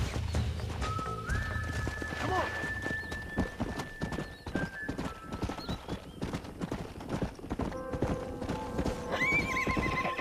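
Horse hooves clip-clop steadily while a stallion whinnies loudly near the start, with sustained whistling tones drifting in and out over the busy scene, from the video game Red Dead Redemption.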